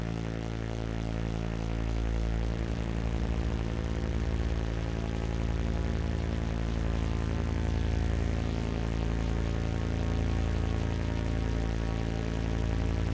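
A noisy drone from a Behringer 2-XM synthesizer hums loud and unbroken, a dense buzzing tone with steady low harmonics and a faint shifting rasp on top.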